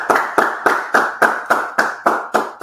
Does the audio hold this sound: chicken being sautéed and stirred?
no